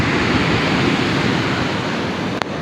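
Ocean surf on the Peruvian coast beside a campsite, a steady, loud broadband wash of breaking water with no pauses, heard alone without voices.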